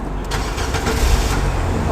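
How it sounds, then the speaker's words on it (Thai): A Nissan Teana engine starts after a push-button press, a steady low rumble with a slight swell, then a close idle that fills the short moment without any talk. "แตะเบรกแล้วก็กดปุ่ม push start เนอะ"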